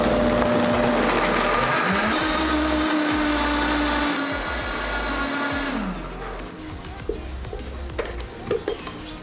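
A Vitamix blender, either the Vitamix ONE or the Ascent 3500, runs loud and steady while blending ingredients, its motor pitch stepping up and down through speed changes before it stops and leaves faint clicks and handling noises.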